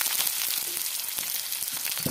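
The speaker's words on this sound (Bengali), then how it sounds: "তেল গরম হয়ে গিয়েছে, দিয়ে দিচ্ছি ছোট চামচের 1 চামচ পরিমাণ গোটা জিরে। জিরে ভাজা হয়ে গিয়েছে, দিয়ে দিচ্ছি কেটে রাখা পেঁয়াজ।" Chopped onion hits hot oil with fried whole cumin for a veg momo filling, giving a continuous bright sizzle with scattered crackles, close and steady, with no talking.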